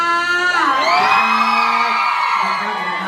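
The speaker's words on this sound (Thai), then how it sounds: "ขอเสียงกรี๊ดให้กับคุณรีิด้วยค่ะ" A crowd lets out high-pitched screams and whoops that swell and hold, a loud chorus of excited cheering.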